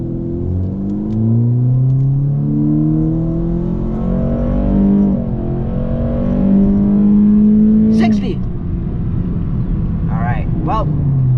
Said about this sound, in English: that was another 0 to 60 with paddle shifters